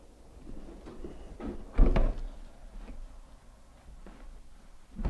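A heavy sliding door, about 50 or 60 pounds, is lifted off its track and moved aside during a repair, producing a single solid thud with low scraping and rumbling before and after it.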